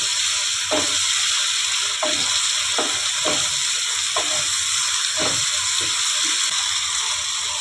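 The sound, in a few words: onions frying and sizzling in a pan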